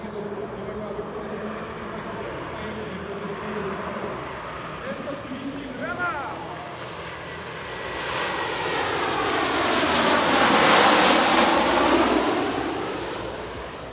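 A military aircraft flies a tactical approach and low overshoot at the Leszno airshow, its engine roar building from a distant hum into a loud, sweeping pass with a shifting pitch, all under wind noise.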